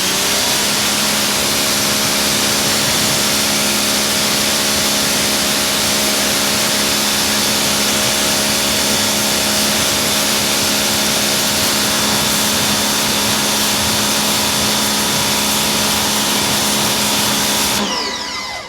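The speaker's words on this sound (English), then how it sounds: "we're going to go ahead and rinse it off" A Porsche wheel being rinsed off with a water spray gives a loud, continuous hissing rush with a steady mechanical hum beneath it, running unbroken until it cuts off at the very end.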